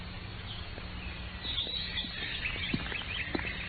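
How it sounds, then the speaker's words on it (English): Spring birdsong with scattered chirps and short calls, faint and steady over a soft outdoor background hiss, with no voices. "The music of the birds and the fresh breath of the spring."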